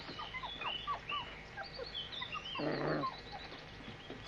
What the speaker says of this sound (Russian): Скулит кто-то.